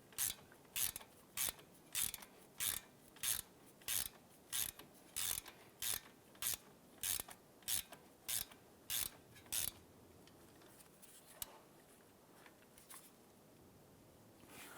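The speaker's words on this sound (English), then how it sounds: "use my 17mm wrench and then put my socket on the other side. And go ahead and tighten that down." A 17mm wrench holds a bolt while a socket ratchet tightens it on a 2012-2017 Toyota Camry front caliper job, a close, regular run of quick ratchet clicks in bursts that stops after about ten seconds.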